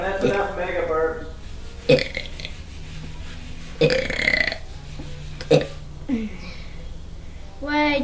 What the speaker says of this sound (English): that's enough mega burps